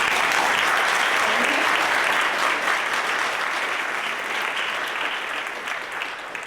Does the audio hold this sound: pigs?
no